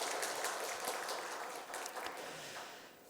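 A church congregation claps together to welcome new members, a dense, steady round of applause filling the room for about three seconds, then thinning slightly at the end.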